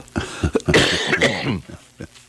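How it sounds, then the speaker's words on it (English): A person coughs several times in a rough, close burst, with raspy throat sounds between the coughs. "Pardon me, I got the cough."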